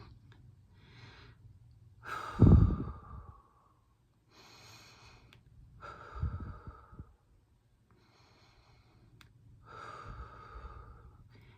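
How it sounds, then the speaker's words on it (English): A person takes slow deep breaths, three long inhale-exhale cycles heard close and clear, one exhale ending in a strong nasal snort-like rush of air, with quiet pauses between. "I want everyone really quickly to take some deep breaths with me."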